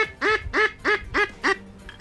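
Five evenly spaced, loud nasal quacks from a handmade duck call imitating a mallard, each short and bright with a trailing drop, followed by a faint final note.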